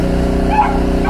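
A dog kept in a small kennel gives a single short yip over a steady, droning low hum, with no talk.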